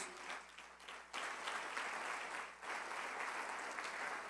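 A church congregation breaks into applause, a broad wash of clapping that swells louder after a brief dip and keeps going.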